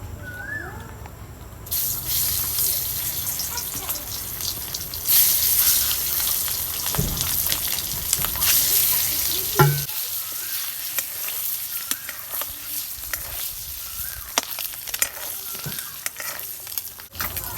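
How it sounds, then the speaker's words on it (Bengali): Farm hen eggs fry with spices in a pan, a steady sizzle with occasional stirring and spatula scrapes, close and moderately loud. "ডিম ভাজা হয়ে গেছে এখন আমি নামিয়ে নিচ্ছি"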